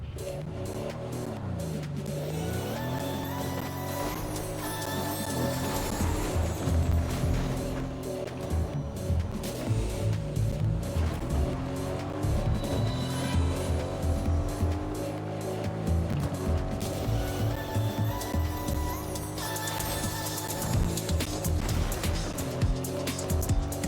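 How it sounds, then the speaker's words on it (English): A car in the video game Fortnite drives hard, its engine droning and shifting pitch while tires squeal and skid in repeated bursts amid game music and effects. "Get back in the car."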